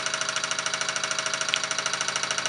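A small model hot-air engine with an alcohol burner revs up, giving a steady, rapid mechanical chugging with a faint whine, close and moderately quiet, without speech.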